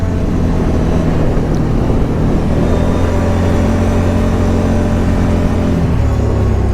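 A 2021 CFMOTO ZFORCE Z 950 side-by-side drives on a test run, its engine droning loudly and continuously with a broad rumble and a slight shift in pitch near the end, and no talking.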